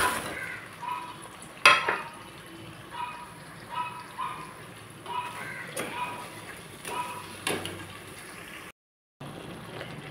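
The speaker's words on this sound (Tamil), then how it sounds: "சுகர் நல்லா மெல்ட் ஆன உடனே இந்த பொரிச்சு வச்ச ப்ரெட்டு பீஸை அதில் போட்டுடலாம்" Fried bread pieces stirred into melted sugar for bread halwa, soft sizzling and frying with intermittent scraping and stirring strokes, fairly faint, with a brief silent gap near the end.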